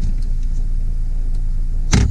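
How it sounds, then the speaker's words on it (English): The rear seat of a 2016 Honda CR-V folds down after a pull of its release handle, a steady low rumble ending in one loud, close thump as the seatback drops. "easy pull of the handle. Those seats will drop down out of the way"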